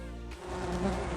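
Steady insect-like buzz of a bee in a farm animals learning game, a short close drone with a slight wavering pitch, no speech.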